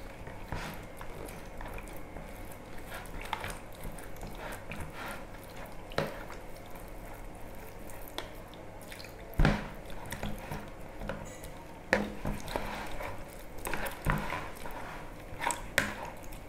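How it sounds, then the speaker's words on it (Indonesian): Ice water trickles gradually into a ground mackerel mixture for pempek, giving soft wet squishes and drips with occasional bowl knocks, close and quiet over a faint steady hum. "ini 300 ml air es, airnya dituang sedikit demi sedikit."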